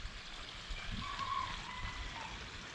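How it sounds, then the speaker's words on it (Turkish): Steady, soft rush of water from garden watering on an early morning, running evenly and close by with no talk over it. "Sabahın erken saatleri ben bir yandan sulamalar yapacağım."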